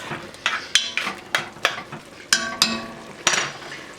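A utensil stirring ingredients into cream of mushroom soup in a metal pot, with a series of about ten sharp scraping clinks in an uneven rhythm, close and fairly clear over a faint background hiss.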